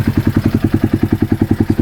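Cheap rebuilt UTV engine idling after sitting four years, a steady, even chugging pulse of about ten beats per second, close and loud with no voices.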